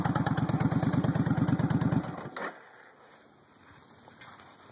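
A 1996 Suzuki VS1400 motorcycle engine idles with a rapid, loping thump for about two seconds. It then cuts off abruptly and leaves faint background noise and a few small knocks.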